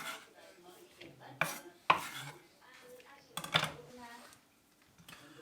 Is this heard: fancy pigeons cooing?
no